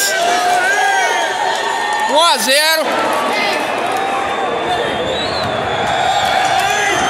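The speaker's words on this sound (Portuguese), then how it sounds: "Torcida explode aqui na arquibancada." Palmeiras supporters roar and cheer in the stands of the stadium after their team's first goal, a dense, loud crowd swell with whistles and shouts, and a voice speaks over it.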